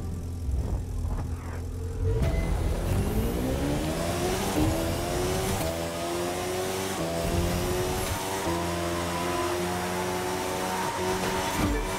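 Street-race engines in The Crew 2 racing game, with Hurricanes and a Ferrari F12 in the field: loud engines rev and climb through rising gears with layered overlapping tones after a quieter start, steady and close throughout.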